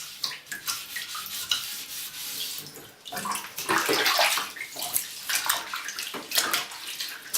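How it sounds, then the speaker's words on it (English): A cloth wipes grease from a bath surface with soft scrubbing and rubbing strokes, some quicker swipes and a wet hiss, heard close and without voices. "Wipe off the grease that may be there."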